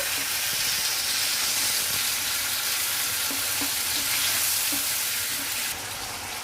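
A paste of green chilli, ginger and cumin fries in a pan with tomato and gives off a steady, close sizzling hiss, with soft, occasional scrapes of stirring over it.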